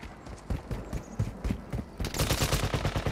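Video game gunfire crackles in bursts, faint and fairly distant, with rapid shots grouping into fusillades that grow denser and brighter toward the end.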